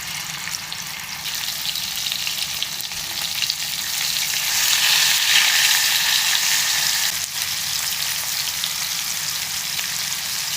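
Fish frying in hot oil in a home kitchen, a steady dense sizzle and crackle that swells slightly midway and carries on without pause, close and fairly loud, with no talking.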